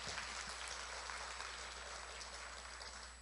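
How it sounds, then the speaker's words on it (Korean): Faint, distant-sounding clapping from the audience at a network-marketing business presentation, a soft, even patter resembling rain that fades slightly toward the end. "여기까지 마음에 드시면 박수 한번 보내주십시오."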